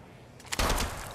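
Gunfire in the mobile shooter Apex Legends Mobile: a sudden loud burst of shots cuts in after a quiet stretch and rings out briefly, close and alone with no talk.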